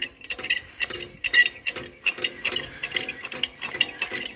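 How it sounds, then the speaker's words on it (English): A Buddy 400 lb batch tumble mixer is cranked back over center, producing a close series of sharp ratcheting clicks and gear clatter in uneven bursts, rising and falling with each turn of the crank. "Now I'm going to crank the unit back over center."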